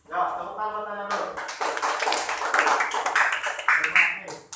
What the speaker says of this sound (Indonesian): Ya, tepuk tangan buat Tania dulu.